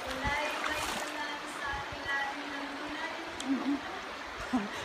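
A river flows under a bridge in Nagano, Japan, its steady rushing, splashing wash running continuously beneath people talking nearby.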